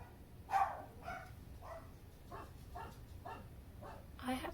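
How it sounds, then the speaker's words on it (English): Several dogs bark indoors at a distance, giving a steady series of about eight muffled woofs at roughly half-second intervals. "Dogs are barking."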